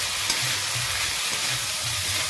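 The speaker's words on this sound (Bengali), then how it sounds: "এই দেখুন এরকমভাবে ভালো করে কষিয়ে নিতে হবে" Potatoes and vegetable stems sauté in a pan with a continuous, even sizzle and hiss, a soft low rumble running steadily underneath, close by and with no voices.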